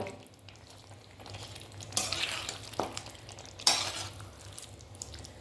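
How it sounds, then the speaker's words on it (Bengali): Chicken pieces being sautéed in a pan for a Bengali posto chicken dish, with steady close sizzling and frying under repeated scraping stirs of a utensil against the pan, including two sharper scrapes. "এবার চিকেনটা আমি 10 থেকে 15 মিনিটের মতন কষিয়ে নেব।"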